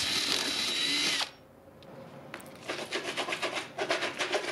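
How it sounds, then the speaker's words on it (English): A 2-inch hole saw cuts through PVC pipe, a loud close drilling whine that stops abruptly. After a short pause, a quieter rhythmic scraping and grinding follows. "Continue making the holes"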